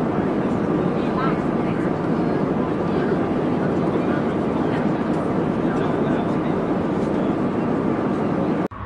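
A Lockheed F-104 Starfighter jet at an airshow gives off a loud, continuous howling roar that stays steady for nearly nine seconds before cutting off sharply.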